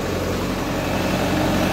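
A tractor engine drones steadily and loudly while pulling an 18-disc harrow across a field, a dense continuous rumble with no pauses.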